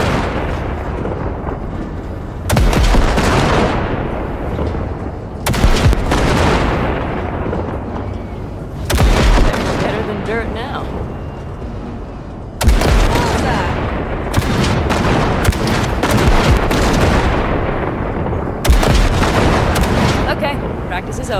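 Gunfire blasting wrecks in Cyberpunk 2077: heavy booming shots land at irregular intervals, each a sharp loud crack that rolls out into a long rumble, over a steady layer of game noise and some talk.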